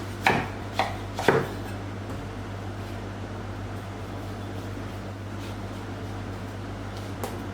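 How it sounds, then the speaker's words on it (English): A knife cuts sweet melon on a board in three sharp, close chops near the start, then a steady low hum fills a quiet stretch until one faint knock near the end. "And first let's cut our melon."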